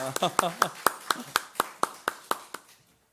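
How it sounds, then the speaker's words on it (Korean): A congregation at a Korean church's Sunday worship service claps in steady unison, about a dozen sharp, evenly spaced claps that gradually soften and stop. "우리 영광의 박수 한번 올리십시다"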